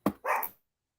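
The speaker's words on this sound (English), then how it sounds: "She got the ghetto dogs going in there." Two quick dog barks sound close together, the first sharp and the second longer and rougher, then silence follows.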